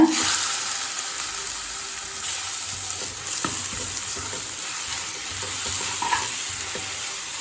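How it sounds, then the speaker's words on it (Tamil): Grated pumpkin sautéing in ghee for pumpkin halwa, a steady close sizzle with occasional stirring scrapes of the spoon in the pan throughout. "நெய்யிலே பூசணிக்காயை நல்லா வதக்கிக்கலாங்க."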